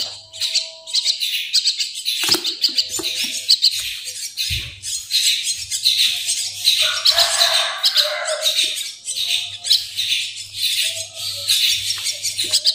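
Young buffalo mynas (jalak kebo) chirp and squawk nearby, a busy stream of sharp, overlapping calls with brief pauses and no talk.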